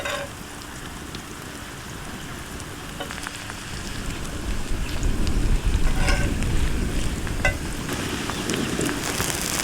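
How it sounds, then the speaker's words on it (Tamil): Raw banana slices frying in hot groundnut oil on a dosa pan, a steady crackling sizzle that swells louder midway, close by with no talk. "இப்போ நம்ம ஒவ்வொரு வாழைக்காயை எண்ணெயில் போட்டு பொரிச்சு எடுத்துக்கலாம்."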